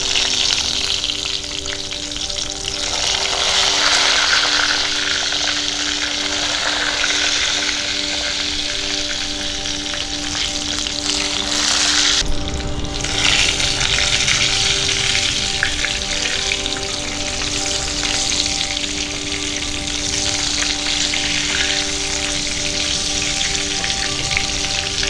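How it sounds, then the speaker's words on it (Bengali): Eggplant slices coated in salt and turmeric fry in hot oil, filling the pan with a loud, dense, unbroken sizzle and crackle that holds steady for the whole stretch, with no voices. "এবার নুন হলুদ দিয়ে মেখে রাখা বেগুনটা ছেড়ে দেব ভাজার জন্য।"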